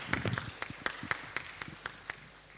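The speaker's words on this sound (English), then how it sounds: "So everyone, please give a big applause to Dr. Balderas." Scattered hand claps sound after a university academic lecture, sparse and uneven, like a small audience clapping rather than full applause.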